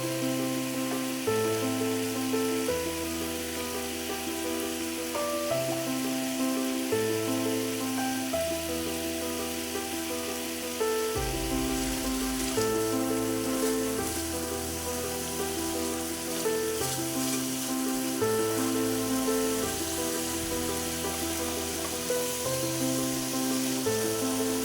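Tangra fish sautéing in oil on a stovetop, a steady loud sizzle and crackle running without pause, with a strong constant tonal hum over it.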